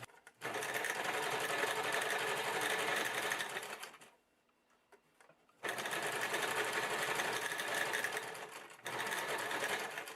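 A sewing machine top-stitches folded seam binding on a potholder, running in a fast, steady close whir for a few seconds, then pausing briefly before starting again for two more runs.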